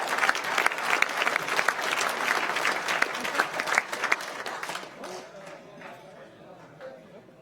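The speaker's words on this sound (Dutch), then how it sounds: "En we willen graag nog een enorm applaus voor deze winnaar." Loud, sustained applause from a crowd for a winner at a sports and business awards event, dense clapping that fades out into quieter room noise over the last couple of seconds.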